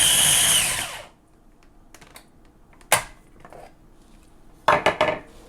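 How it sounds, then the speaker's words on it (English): A food processor whirring loudly as it purees sardines with tomato sauce, running for about a second before cutting off, followed by scattered clinks and knocks of the bowl and lid. "So then put it in the food processor and smooth as possible"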